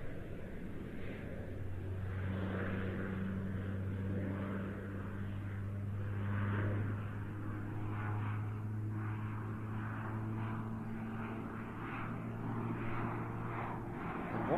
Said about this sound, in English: this aircraft is continuing to climb in a steep spiralling turn